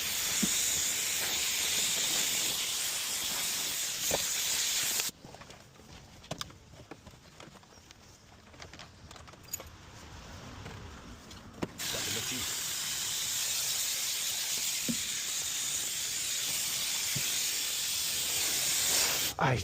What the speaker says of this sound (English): better steam clean that as well